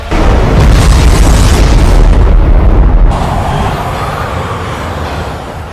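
A bomb explodes with a massive, deep boom in an action film, the roar filling the scene for about three seconds before settling into a long, dull rumbling decay.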